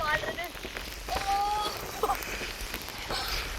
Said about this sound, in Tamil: செம மழை பெய்யுது